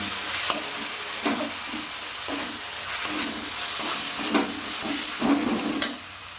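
Turmeric, Kashmiri chili and red chili powders fry in a pan for a Bengali tangra fish curry, a close sizzle broken by repeated spatula strokes and scrapes at a steady stirring rhythm, with no voices.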